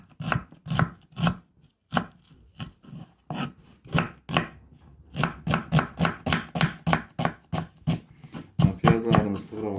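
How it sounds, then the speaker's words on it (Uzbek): Onions are chopped with a knife on a board for a potato and bean plov, a quick series of close, crisp thuds that starts in short bursts and turns into a fast, even rhythm. "Piyozlarimizni to'g'rab oldik."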